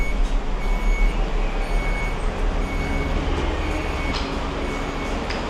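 Door warning beeps sound aboard a train, repeating in short, evenly spaced tones over the loud, steady rumble of the carriage.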